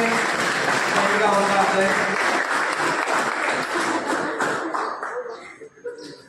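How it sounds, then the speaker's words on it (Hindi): A school audience at an English-medium secondary school's student award ceremony gives loud, sustained applause. The dense clapping fades and thins toward the end, with a brief spoken phrase over it. "जोरदार तालियों की गड़गड़ाहट से"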